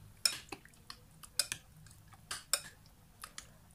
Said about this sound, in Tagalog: saka po natin haluin para mag-combine po lahat.